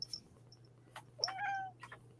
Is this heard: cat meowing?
yes